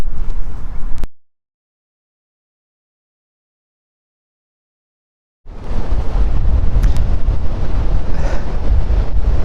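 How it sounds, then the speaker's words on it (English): Strong wind buffets the microphone at a seaside campsite near a surf beach, a loud rough roar that cuts out into silence for several seconds before gusting back in just as heavily. "Gosh, it's windy."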